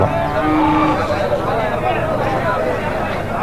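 Cows moo loudly and continuously at the Matrapalli cattle market, with one long sustained low call near the start over a dense, busy crowd of other animals.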